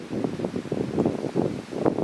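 Gusty, chilly wind on a cloudy day by the water on a kayak trip, buffeting the microphone in uneven low rumbling surges, loud and close throughout.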